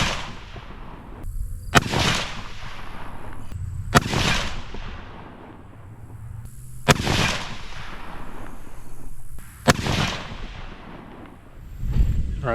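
Rifle shots fired at a target group, four sharp loud cracks spaced a few seconds apart, each trailing off in a long rolling echo across open ground, with no talking.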